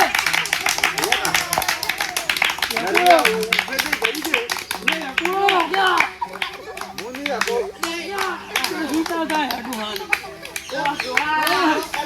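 A group of people gives rapid, sustained hand-clapping for an old man, with several voices, some of them children's, talking and calling out over the clapping throughout.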